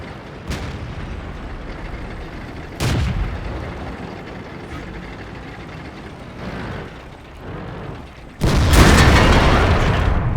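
Cannon blasts from an IS-3 tank in World of Tanks, several sharp booming shots spaced seconds apart, the last one loudest with a long rumbling tail, over a low engine drone.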